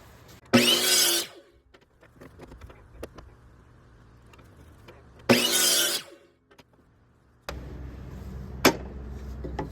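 A hand saw cuts wood for a pendulum lamp cover, producing two short bursts of loud rasping strokes separated by quieter handling clicks and taps, then a lower steadier sound with a sharp knock near the end.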